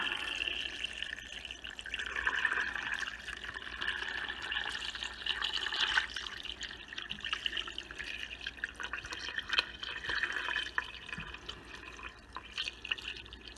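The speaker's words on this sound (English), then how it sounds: "We'll put enough water in so that the meat is just covered." Bottled water splashes and trickles steadily into a pot of beef for homemade dog food for several seconds, a continuous bright pouring sound close by with no voices.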